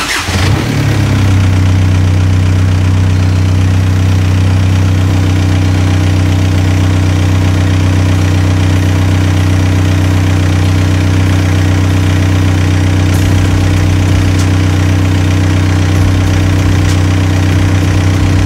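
A diesel engine in a Toyota pickup fitted with a TDI engine idles steadily and loudly, a deep constant rumble with a low knocking rhythm after a brief start at the beginning.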